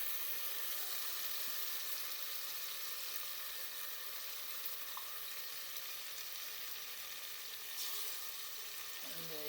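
Masala frying in a pan with added water sizzles and crackles steadily up close, a continuous bright hiss with occasional stirring scrapes and no talking.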